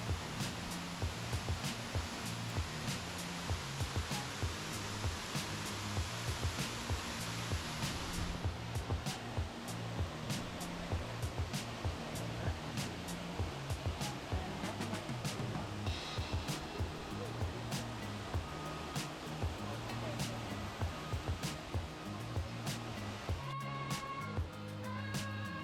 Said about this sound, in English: The waterfall itself though is absolutely gorgeous.